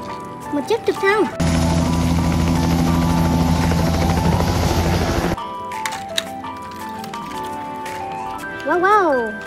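A helicopter sound effect in a children's cartoon about vehicles: a loud, steady rotor thrum lasting about four seconds, framed by playful music and cartoon noises.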